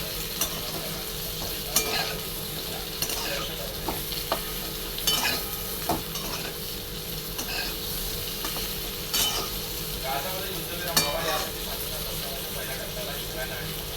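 Bitter gourd slices fry in a pan with a steady close sizzle, broken by intermittent scraping stirs and spoon taps, while a voice speaks faintly in the background.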